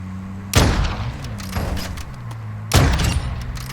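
Two heavy booming gunshots from Call of Duty Modern Warfare II, spaced about two seconds apart, over a steady low game ambience with a softer thump between them.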